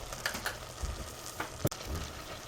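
Chopped celery frying in a pan gives a close, steady sizzle with a few stirring scrapes and one sharp clack midway, and no voices.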